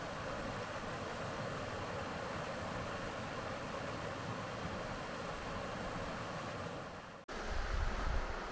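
Creek water flowing at a crossing on a solo multi-day alpine hike, a steady, loud broadband rush close by, with wind buffeting the microphone near the end.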